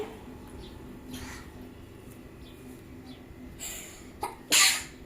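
A single sharp sneeze bursts out near the end, loud and close, after a stretch of quiet room noise with faint bird-like chirps in the background.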